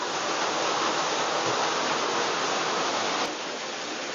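A large volume of water gushes out of a well at Vannappuram in Kerala, a loud, continuous broadband rush heard up close with no voices.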